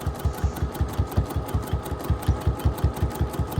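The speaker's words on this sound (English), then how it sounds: "I'm going to back stitch again, and I'm going to drive right over the pins" A sewing machine back stitches over pins along quilt binding, a quick, even mechanical chatter of needle strokes running steadily at close range.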